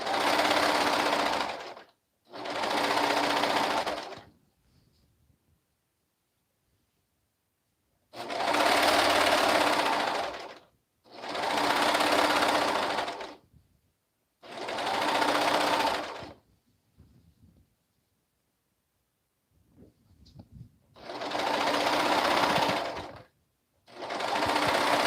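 A sewing machine stitching Etsy orders runs in close, loud bursts of a few seconds each, separated by short silences, with no voices.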